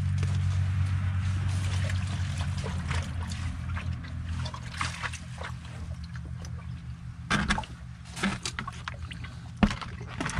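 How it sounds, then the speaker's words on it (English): Water runs with a soft, faint trickle over a low hum, broken by a couple of louder splashy bursts near the end. "Now he's going to put the water on."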